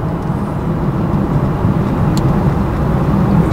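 A procharged Dodge Scat Pack accelerating hard in a pull, heard from inside as a loud, steady engine and road roar that builds slightly.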